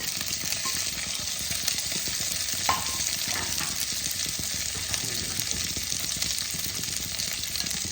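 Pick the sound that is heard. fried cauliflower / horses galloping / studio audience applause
fried cauliflower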